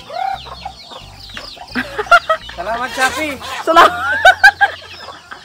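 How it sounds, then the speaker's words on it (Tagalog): Chickens cluck and squawk up close on a farm in Palawan in the Philippines, in short loud bursts mixed with people talking and laughing. "Nakakulimbat na yung pinsan ko ng 2 manok. Ay, tatlong manok, guys."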